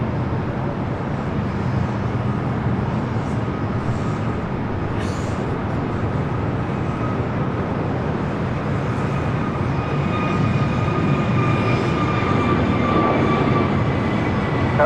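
A jet airliner lands on runway 6 left at Los Angeles International Airport (LAX), heard as a steady, loud engine roar with a broad rumbling wash that holds unbroken throughout, with no voices.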